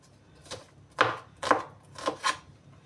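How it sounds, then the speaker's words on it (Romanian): A knife chops onion into large pieces on a cutting board, giving five distinct close, crisp strokes spaced about half a second apart, with no talk. "Acum eu tai ceapa, nu tai mărunt, tu tai așa mai mare"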